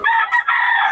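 A rooster from Boss Perry's flock crows once, a single loud, close cock-a-doodle-doo with a brief break in the middle, heard alone with no talk.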